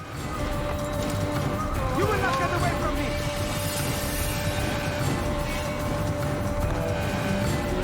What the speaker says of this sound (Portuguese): Cadê o cavalinho? Pocotó. Vamos lá, Pocotó.